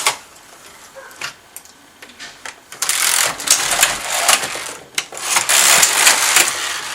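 A Passap knitting machine knits two rows of a child's sock: the carriage runs with a rapid clattering, whirring rattle in two loud sweeps after a few quieter clicks and handling noises, close by and without talk.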